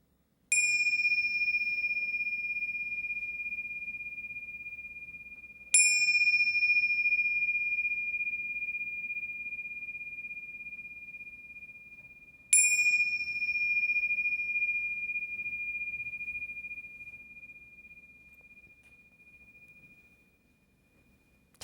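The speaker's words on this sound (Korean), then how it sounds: "이제 종소리 3번을 치면 여러분 몸에서 종소리를 느껴보세요" A meditation bell is struck three times at slow, even intervals. Each strike gives a bright, pure ring that fades slowly into near silence before the next, with no talking.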